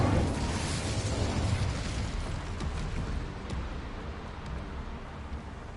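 An Incendio fire spell is cast in a Harry Potter video game: a loud, close whooshing burst of flame opens strongly, then fades into a sustained roaring rumble that slowly softens.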